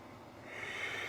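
A single soft, slow breath drawn in through the nose during a yoga session, quiet and close, rising gently in airy hiss over about a second.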